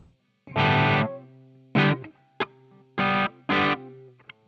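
Electric guitar through a DIY DOD Chthonic fuzz pedal: thick, distorted chords and notes ring in several bursts with short silent gaps, loud and close with no talking.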